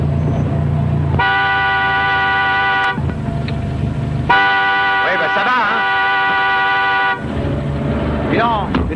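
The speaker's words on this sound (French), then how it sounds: "Il y a un klaxon de planqué par là." A hidden car horn blares in three long sustained blasts with short gaps between them, loud and close, while someone talks over and between the honks.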